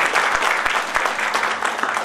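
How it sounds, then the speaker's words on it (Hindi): Enthusiastic audience applause at a stage performance, many hands clapping in a dense, lively patter with a few sharper individual claps standing out, fairly close and loud. "जोरदार तालियां."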